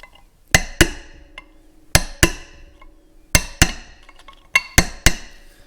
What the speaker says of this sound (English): We'll peen on both sides of the collar